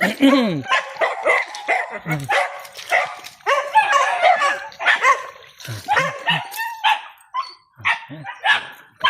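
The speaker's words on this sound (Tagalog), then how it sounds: "Mga aso." Several dogs bark and yip excitedly in overlapping bursts, close by, with whimpers mixed in and a voice or two among them.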